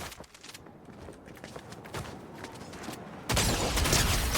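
Gunshots in a competitive ranked video game match, a string of sharp reports at moderate distance, followed by a sudden louder, denser burst of fire near the end.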